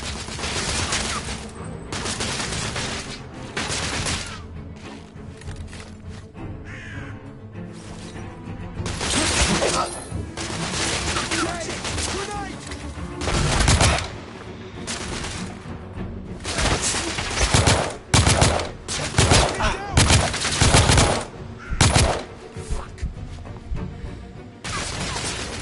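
Heavy gunfire from The Order 1886 video game: a dense, sustained barrage of rapid shots and bursts with loud close blasts throughout, swelling in intensity toward the end, with a voice talking underneath.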